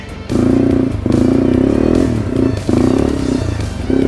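A Yamaha TW200 motorcycle drifts through snow on a forest ride, its loud, close engine revving in surges that rise and dip over a few seconds, with no talking.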